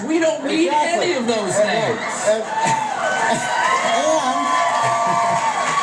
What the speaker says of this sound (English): Please let him speak before you cheer for him.